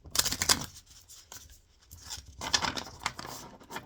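Tarot cards being shuffled by hand, soft riffling and papery flutters in two short bursts with a quiet pause between, close and faint.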